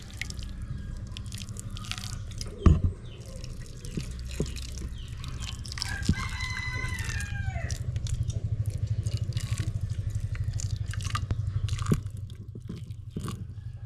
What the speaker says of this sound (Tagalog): manlawan muna natin ng mainit na tubig para matanggal yung langsi or yung dulas ba?